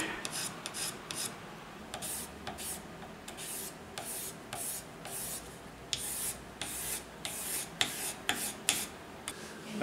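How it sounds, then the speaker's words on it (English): Scraping wood from a violin fingerboard to fit it: a run of short, dry rasping strokes in an irregular rhythm, close by and moderately loud, with no talk. "this is too much wood here, so we have to scrape a little bit more on this in order to fit the violin perfectly"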